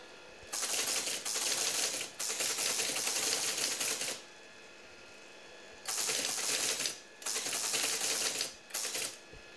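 An ASR33 teletype mechanism clattering loudly in rapid continuous bursts of printing, with short pauses between runs and a steady background hum.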